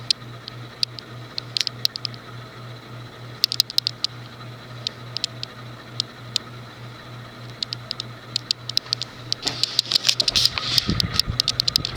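A 1989 Universal Laguna 36-inch ceiling fan with worn bearings runs close by, giving a steady hum under irregular ticking and clicking that thickens into a scraping rattle near the end.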